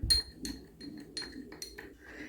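A spoon stirs baking soda powder in a bowl, making a string of sharp, bright clinks at irregular intervals, about six or seven in all, close by with no talking.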